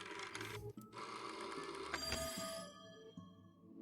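An old-style telephone bell rings insistently in the video game There Is No Game, its bright metallic trill sustained over busy game music and effects for a few seconds before cutting off.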